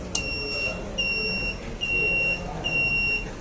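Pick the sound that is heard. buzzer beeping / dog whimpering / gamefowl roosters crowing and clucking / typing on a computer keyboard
buzzer beeping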